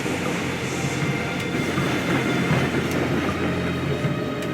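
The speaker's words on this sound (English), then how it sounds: "First of the 4 approaching trains arrived just before 7:37." A commuter train arriving at Atocha station in Madrid during the morning rush, a steady loud rumble of wheels and carriages with faint metallic clicks throughout.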